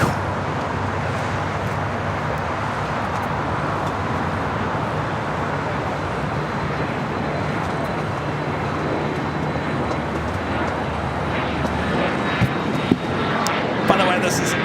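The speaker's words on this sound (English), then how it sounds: "this is American Airlines flight 2455, a flight coming in from Boston on this A321" American Airlines Airbus A321 arriving from Boston at LAX, a steady broadband jet roar held at one level throughout, with a few faint clicks near the end.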